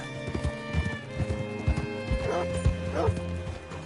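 Hooves clip-clop at a steady walking pace, close by, in the video game Red Dead Redemption 2, with a horse snorting and whinnying partway through.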